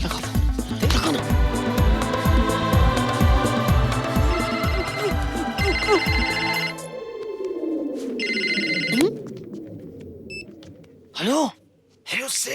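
A telephone rings in a scene from the Bollywood comedy Chashme Baddoor, with repeated loud rings over music and busy background sound, then fading into quieter scattered sounds.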